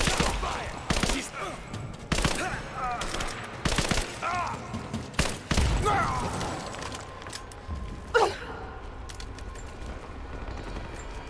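Bursts of submachine gun fire in Rise of the Tomb Raider, loud repeated volleys and single shots spread through the scene, set against a steady noisy background of action.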